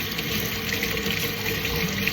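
Water from a sink tap pours in a steady, close, hissing stream as an item is rinsed off, an unbroken wash of sound with no talking.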